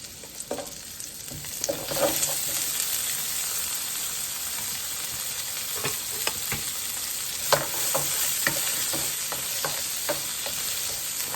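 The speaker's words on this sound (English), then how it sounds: "And then we'll just drop in our vegetables." Vegetables dropped into a hot pan for orange chicken with garlic, a steady close sizzle with scattered clacks and scrapes of stirring, moderately loud and alone.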